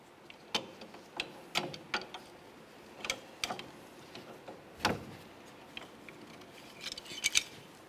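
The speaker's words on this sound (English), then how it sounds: "For this, I'm just going to use some long pliers." Long pliers working the inner tie rod jam nut on a 2005-2010 Chevrolet Cobalt, giving a string of light, irregular metallic clicks and scrapes at close range with no talk.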